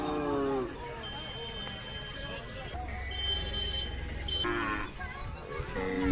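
Khillar cattle moo at a livestock fair market, with several drawn-out calls at the start, in the middle and at the end over busy crowd noise.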